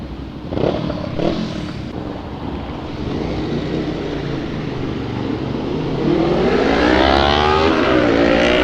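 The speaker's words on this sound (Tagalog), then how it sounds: "Sakit ng tunog ng ano ni Ken, ng motor ni Ken." A big-bike motorcycle with a loud aftermarket SC Project conical exhaust roars close by, its raspy exhaust note rising steadily as it revs, with wind buffeting over the sound.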